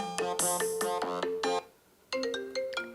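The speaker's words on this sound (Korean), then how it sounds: "이거는 옛날 아이폰 그 전화 벨소리" An old iPhone ringtone plays loud and close, a bright melodic phrase of chiming notes that stops briefly and then starts repeating.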